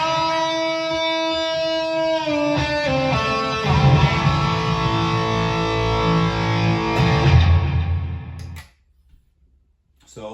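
Distorted electric guitar through a Peavey Vypyr X2 amp on a distortion preset plays thick, buzzing sustained chords that grow heavier midway, then cut off abruptly into near silence with a short burst at the end.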